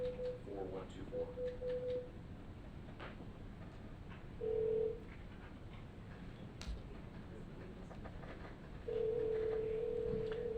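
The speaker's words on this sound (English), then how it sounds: "Answer the phone." Faint telephone tones during a remote planning commission meeting: short steady beeps, then a longer sustained tone near the end, over low room hum and a few clicks.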